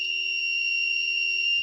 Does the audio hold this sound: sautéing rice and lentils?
no